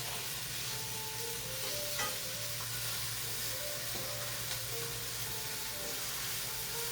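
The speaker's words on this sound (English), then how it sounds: "I do hear a sizzle, which is a good sign" Steady sizzling of chicken breasts frying in a hot pan, a continuous soft crackle and hiss with faint occasional clinks.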